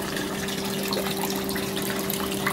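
Steady trickling and splashing of water dripping from an aquaponics grow bed into a fish tank, a continuous close wash of drips with a faint pump hum beneath, no talk.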